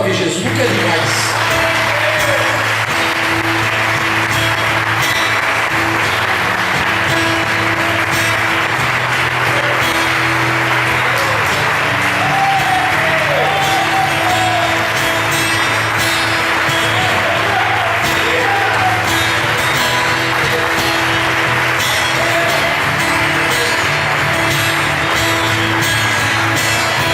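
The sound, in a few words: congregation applauding Jesus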